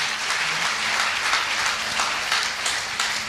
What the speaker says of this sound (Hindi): ऐसे सेफ शॉप इंडस्ट्री के लिए एक जबरदस्त तालियां होनी चाहिए